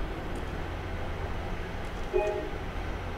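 In the Train Sim World 3 game on the Birmingham Cross City Line, a train rumbles steadily with a low continuous drone, and a brief tonal horn-like note sounds near the end.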